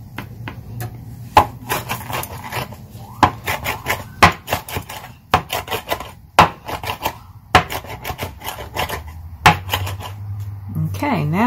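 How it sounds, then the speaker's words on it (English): A knife chopping and mincing fresh herbs for chimichurri on a board, with repeated sharp, close taps in irregular bursts, while a voice talks quietly underneath. "Keep bunching it up together and just get it all minced up"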